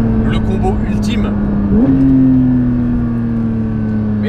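A Porsche 992 GT3's engine drones steadily up close, then revs sharply with a quick rise in pitch near the middle and holds a higher, loud, sustained note.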